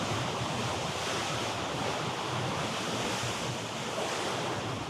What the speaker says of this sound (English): A little cavern with the sea smashing around.